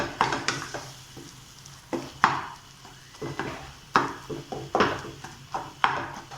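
Kothu bread with egg is stir-fried in a pan, a soft sizzle running underneath repeated sharp scrapes and clanks of a spatula tossing and chopping the mixture in an irregular rhythm.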